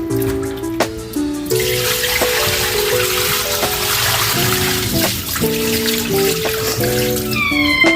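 Tap water runs steadily into a sink while neckbones and oxtail are rinsed by hand, a continuous splashing gush with occasional clinks and background music playing underneath.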